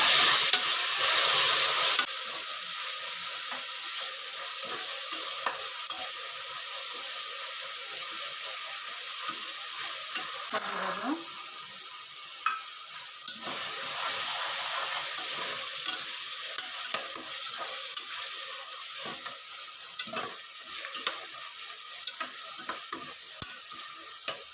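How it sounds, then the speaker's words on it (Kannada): Chopped fenugreek leaves are stir-fried in a pan for a hotel-style bisi bele bath, with a loud initial sizzle settling into a softer frying hiss and repeated scraping stirs of a spatula, close by and without speech. "ಒಂದು ಕಪ್ ಮೆಂತ್ಯ ಸೊಪ್ಪು ಹಸಿ ವಾಸನೆ ಹೋಗೋವರೆಗೂ ಹುರ್ಕೊಳ್ಳೋಣ."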